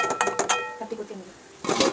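A metal lid set onto a pan of elephant foot yam stem poriyal, giving a few sharp clinks and clatters near the start, then a softer stretch and a final brighter rattle of cookware up close.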